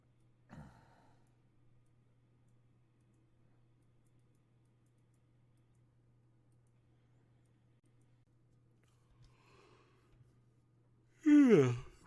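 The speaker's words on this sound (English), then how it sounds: "Pardon the yawn." A single long yawn near the end of a quiet stretch: a soft breathy start rising into a loud, drawn-out voiced exhale lasting about a second, with a brief breath earlier and a faint steady hum throughout.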